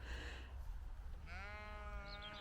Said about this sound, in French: nous voilà au cœur des prés salés avec nos amis les brebis et les agneaux